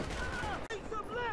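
Gunfire in the Battlefield 4 multiplayer video game, a burst of shots crackling under game sounds and a voice talking, with a brief gap partway through.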